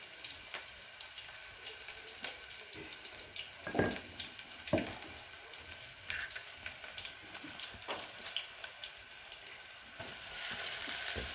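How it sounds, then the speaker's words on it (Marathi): Onion frying in oil with garlic and cumin for a vegetable dish, a faint, steady sizzle with scattered stirring clatters and a couple of louder knocks, close by and without talking. "कांदा टाकायची तेलामध्ये कांदा टाकला"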